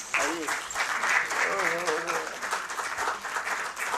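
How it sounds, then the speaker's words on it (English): An audience claps after a concert featuring vocals, harmonium and sitar, with steady moderate applause running under a voice speaking over it throughout. "Once again, a round of applause for the master and the talent and the accompanying artist."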